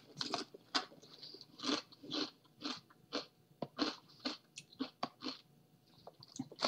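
Crunchy snacks from a Universal Yums subscription box being bitten and chewed close up, a steady series of loud crisp crunches in irregular rhythm with brief pauses, no talking.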